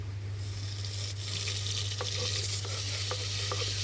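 Chopped tomato dropped into golden-brown roasted onions in a hot pan, giving a steady close sizzle with a few light scraping and stirring clicks over a constant low hum.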